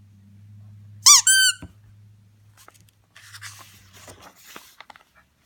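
A small wooden rocking chair gives two loud, high creaking squeaks, then a sharp crack as it breaks, followed by faint scattered crackles and clatter of pieces.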